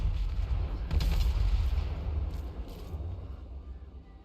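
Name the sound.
Grand Cannons of Cathay firing, from video game Total War: Warhammer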